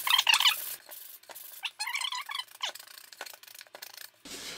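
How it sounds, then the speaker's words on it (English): Coarse sandpaper rubbed by hand over the sharp, freshly cut edges and furry corners of a canvas art panel, giving short scratchy strokes in uneven bursts, close up and fairly quiet. "so you grab any old bit of sandpaper."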